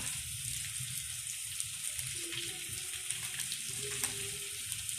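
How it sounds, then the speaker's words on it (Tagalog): Squash sautéing in a pan gives a steady, soft sizzle and hiss that runs unbroken from start to finish, fairly quiet and close, with a faint tonal hum partway through and no talk over it. "yung kalabasa lamang po yung ating igisa"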